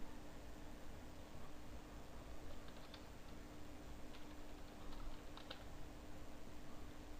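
Quiet, steady tapping of keys on a computer keyboard, soft and close, with light clicks spread over several seconds against a faint background hiss.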